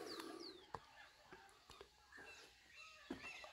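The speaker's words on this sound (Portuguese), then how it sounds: "Passarinhos fazendo ninho." Small birds calling near a nest at an abandoned house, short coos and thin chirps scattered at low level, with faint indoor rustling and quiet background noise.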